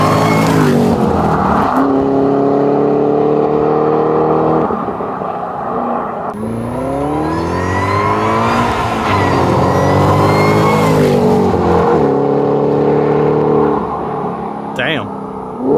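A Shelby GT500 pulls hard on a quiet road, engine note climbing loudly through the gears with brief dips at each shift, close and dominant throughout.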